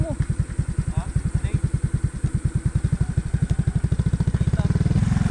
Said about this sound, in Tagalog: Malakas itong motor.